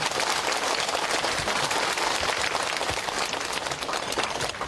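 Steady, dense applause from an audience at a Buddha's Birthday Dharma talk in Yeosu, continuous and moderately distant for the whole stretch with no voices above it.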